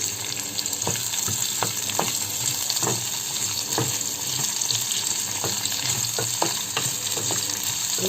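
Cinnamon, pepper and cardamom sizzle and crackle in hot oil for a masala curry, with scattered close pops and stirring clicks over a steady frying hiss.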